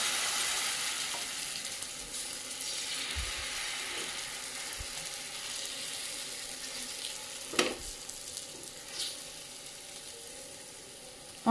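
Besan chilla cooks on a flat tava over a low flame, giving a faint, even sizzle with a few soft clinks and scrapes near the end.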